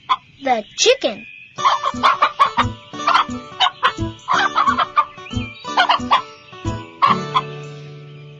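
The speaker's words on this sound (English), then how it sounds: "The chicken." A farm chicken clucks and squawks in a busy run of loud, close, choppy calls with brief pauses, alone and unaccompanied by talk.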